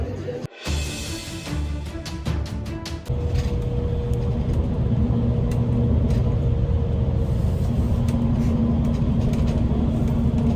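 A bus engine rumbles from inside the cabin, a loud, steady low drone that settles in after a few seconds of clatter and keeps going without a break.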